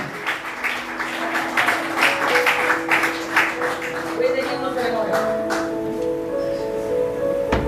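A church congregation applauds at a morning service, dense steady clapping that fills the space and gradually thins out toward the end.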